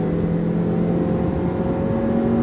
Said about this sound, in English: you do hear that engine noise because it's revving, trying to rev higher, close to the red line